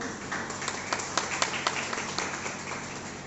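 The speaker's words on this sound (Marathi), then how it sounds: "तर तुमच्या स्वतःसाठी जोरदार टाळ्या होऊ द्या" An audience at a United Nurses Association Maharashtra Nurses' Day celebration claps in a steady patter of applause, with a few sharper, closer claps standing out.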